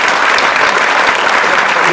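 An audience at a tribute to Om Puri gives loud, sustained applause, a dense, even roar of many hands clapping close by without a break.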